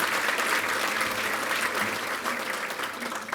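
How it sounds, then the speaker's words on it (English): An audience at a civic awards ceremony honouring citizens of the year gives a round of applause, dense steady clapping from a sizable crowd, loud and close, tapering slightly toward the end. "If we could give them all a round of applause"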